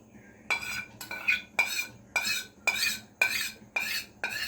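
A spoon scrapes and stirs a mixture around a bowl in eight regular, evenly spaced strokes, each a sharp clinking scrape that fades before the next, close and clear with no talking.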